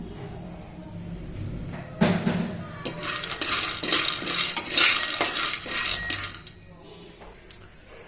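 Peanuts dry-roasting over low heat while being stirred in a pan, rattling and scraping with clinks of a utensil against metal in uneven bursts, closely heard with no talking.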